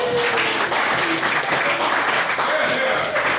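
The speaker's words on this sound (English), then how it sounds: "Applause!" Audience applause filling a hall at a university literary society anniversary gala, dense sustained clapping from a large crowd heard close and loud throughout, with some voices mixed in.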